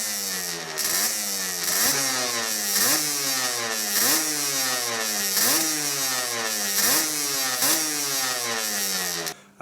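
A Yamaha DT125 two-stroke supermotard with dual exhausts revs repeatedly, its buzzy engine note rising and falling in a regular cycle of blips, loud and close, with no talking.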